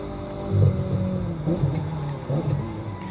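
A car engine revving and humming steadily in the racing video game The Crew 2 on PS5, with the pitch rising and falling slightly as it cruises at high speed, moderately loud throughout.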